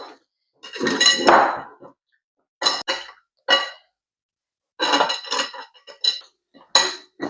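Sardines being mixed with masala in a bowl, heard as scattered clinks and scrapes of a utensil against the dish in short irregular bursts separated by silent gaps, close and fairly loud, with no speech.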